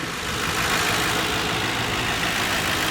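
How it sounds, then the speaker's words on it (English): A 2008 Ford Crown Victoria Police Interceptor idles quietly and smoothly under the open hood, a steady, even engine hum with faint hiss and no voices, close and continuous throughout. "Under the hood of the vehicle here, vehicle is extremely quiet, as you can hear it."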